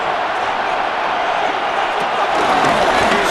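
A stadium crowd in the Madden NFL 26 football game, Raiders against Commanders in Las Vegas, a steady broad roar swelling slightly toward the end as a commentator talks over it.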